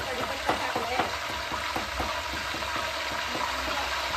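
Curry leaves and cumin seeds sizzle in about 100 grams of hot oil, a steady close frying hiss broken by regular stirring clinks.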